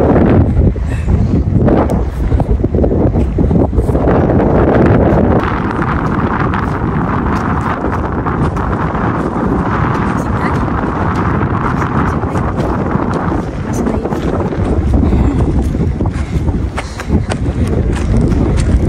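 Strong wind rushes across a mountain summit, a loud, roaring buffet on the microphone that swells and eases over the whole stretch, with occasional thumps of movement nearby.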